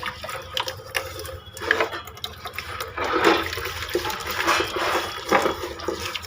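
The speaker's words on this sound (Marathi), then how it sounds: "आता पाणी आलं नळाला, आता आवरावं" Water gushes and splashes from a household tap now that the supply has come on, a steady rushing flow with intermittent clatter throughout.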